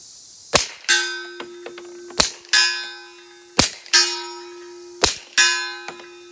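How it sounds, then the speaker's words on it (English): Suppressed pistol shots through a Dead Air Mojave 45 suppressor: about five sharp reports, each trailed by a sustained metallic ring, with smaller clinks in between. "All right, let's try it suppressed."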